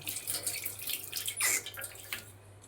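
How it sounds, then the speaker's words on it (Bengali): Water poured from a tap into a small vessel while shrimp and other ingredients wait to be ground into a paste for a ridge gourd mash, a short close splashing run with a brief louder gush midway. "সামান্য একটু জল দিয়ে দিচ্ছি এবার সবগুলো একসঙ্গে আমি পেস্ট করব"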